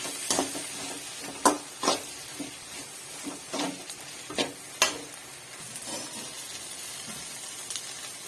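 Noodles coated in red chilli sauce are stirred in a pan, giving a steady faint sizzle broken by irregular scraping and clinking strokes of the spoon against the pan, with no voices.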